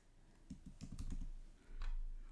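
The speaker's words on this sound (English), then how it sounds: "I'm typing the word Panthers." Light, quick clicks of a computer keyboard being typed on, a short burst of keystrokes followed by a pause and a few more taps, quiet and close with no talking.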